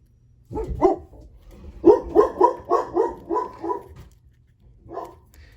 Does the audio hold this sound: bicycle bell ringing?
no